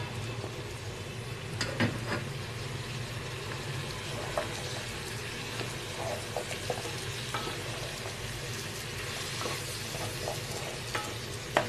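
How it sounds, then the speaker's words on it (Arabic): Potatoes and onions are stirred and fried together in a pan for a chicken breast and potato casserole, giving a steady low sizzle with scattered scraping taps of the spoon and no voices. "هقلبهم مع بعض لحد البطاطس كما يبقى لونها اصفر شويه."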